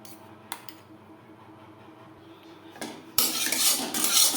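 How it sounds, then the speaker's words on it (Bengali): Eggs with chopped onion, green chilli, salt and turmeric are beaten in a bowl: a few sparse utensil clinks, then a louder run of rapid scraping and clattering whisk strokes close by. "পেঁয়াজ কুচি, কাঁচা লঙ্কা কুচি, লবণ হলুদ দিয়ে ডিম বেশ ভালো করে ফেটিয়ে নিলাম।"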